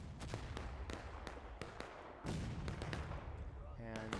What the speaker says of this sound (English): There goes the Confederate artillery.